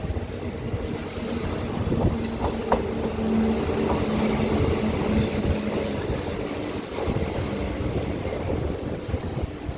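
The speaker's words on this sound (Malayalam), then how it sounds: "നമുക്കായിട്ട് ഏതോ ട്രെയിൻ പിടിച്ചിട്ടുണ്ട് നമുക്ക് പോകാനായിട്ട്." The Rajya Rani Express on its way to Bangalore, heard as a steady loud rumble of rolling carriages with wheel squeal and faint clatter throughout, with no voices.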